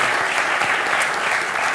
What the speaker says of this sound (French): On applaudit Maître Gégeur et on le laisse partir.